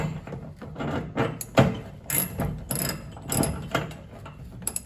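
A ratchet wrench loosens the 3/8 nut on the factory hose clamp of a 1967 Cadillac gas tank line, clicking in close, uneven bursts of pawl ticks with short pauses between swings.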